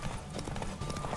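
Horse hooves galloping in the video game Witcher 3, a steady, rapid clip-clop rhythm that stays fairly loud and continuous throughout the short stretch, with no voices.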